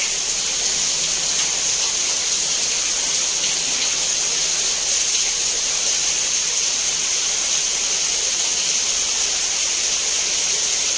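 Floodwater rushes steadily over a submerged road near Kanuru, a constant loud hissing wash with no pauses, close by and with nobody talking.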